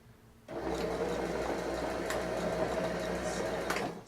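Sewing machine stitching a seam on a pair of comfy pants, a steady continuous mechanical whir running close and fairly loud for several seconds after a brief quiet start.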